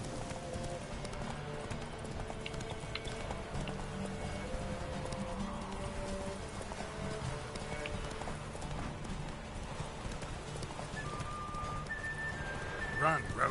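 Roach, the horse in The Witcher 3, gallops in a steady rhythmic clip-clop of hooves, moderately loud and continuous, with rain-like ambience and faint game sounds behind.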